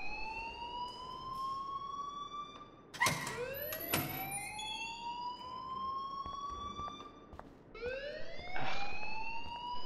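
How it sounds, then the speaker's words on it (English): A school alarm in the game Life Is Strange blares in repeated rising electronic wails, each sweep climbing in pitch with sharp bursts of noise between them, loud and insistent throughout. "please turn off that alarm since that's your job"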